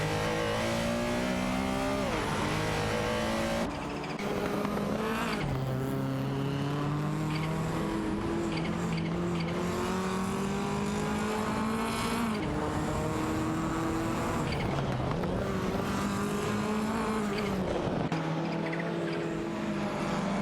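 Race cars in a racing video game roar past one after another, engines revving and shifting through gears in a continuous loud drone with rising and falling pitch and occasional tire squeal, with no talk.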